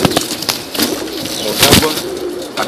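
Young tippler pigeons coo in a loft, a soft burbling chorus mixed with rustling and occasional wing flutters, with the birds close and moderately loud.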